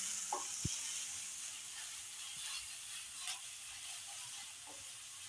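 Dried red chillies fry in a hot kadai for palak dal. A steady, bright sizzle continues throughout, with a couple of sharp clicks and a faint scrape of stirring.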